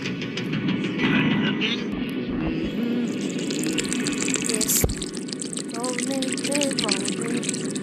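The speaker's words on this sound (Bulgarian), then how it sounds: "Сега трябва да напълним кола с гориво." Fuel pours into a car in the Ice Scream video game, a continuous liquid trickle running beneath ongoing talk, with a few short tonal game effects near the end.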